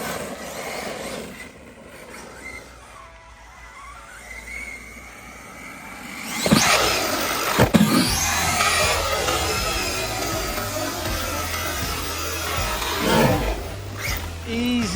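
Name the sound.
Hobao SSTE RC truck on 6S power driving on grass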